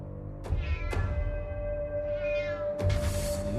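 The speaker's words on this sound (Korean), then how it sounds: "계속 집 주변에서 고양이 울음소리가 들린 겁니다" A cat meows several times, drawn-out and plaintive, with sharp clicks between the cries, close and without any talking.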